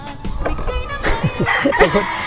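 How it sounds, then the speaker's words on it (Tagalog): Hungry chickens cluck and squawk close by, several short calls overlapping in irregular bursts. "Gutom na yung mga manok."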